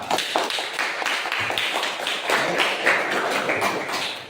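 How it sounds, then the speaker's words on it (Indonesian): Classroom applause from a group of students, a steady dense patter of clapping hands that stays loud and close for the full few seconds. "Tepuk tangan untuk Mbak Safa."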